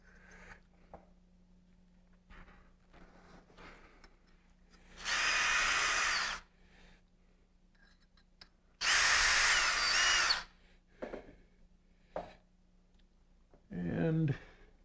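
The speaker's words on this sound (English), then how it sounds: "So just gonna quickly run a reamer through it and grab a couple of pins." A reamer run through a metal part during final assembly with what sounds like a hand drill, two loud close whirring bursts of about a second and a half each, followed by a shorter one, with clicks and soft handling noises between.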